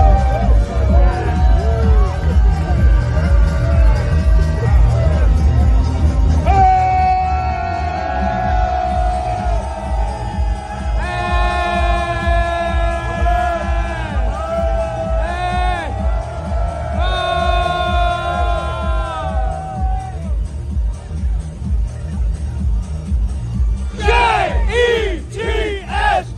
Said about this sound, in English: There it is, Fireman Ed rallying the crowd.